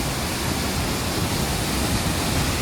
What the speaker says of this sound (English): so many avenues for the water to just spill through